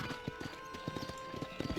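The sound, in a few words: horse riding hoofbeats in the video game Red Dead Redemption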